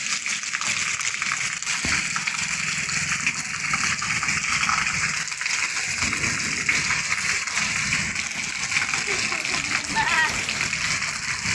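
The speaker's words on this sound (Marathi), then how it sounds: "हे बाल्टी भरण्यात आलं आहे." Water gushing and splashing steadily into a bucket during a heavy downpour in a village, a continuous close rushing slosh with voices faintly audible underneath.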